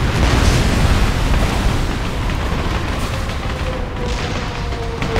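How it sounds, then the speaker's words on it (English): Heavy explosion of an anti-air gun being destroyed in the combat flight game Ace Combat: Assault Horizon, a loud continuous rumbling boom with dense low-end roar that holds steady throughout, no talk over it. "Anti-air gun destroyed."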